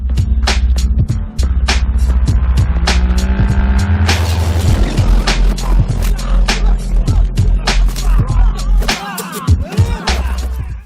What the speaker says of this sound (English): the carnage of the car chase that's happening outside